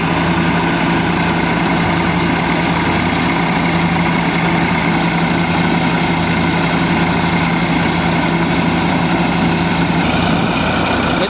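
A tractor drives a threshing machine, a double-clutch farm setup. Its engine gives a loud, steady, close idling drone with a constant low hum for the whole stretch, with no voices.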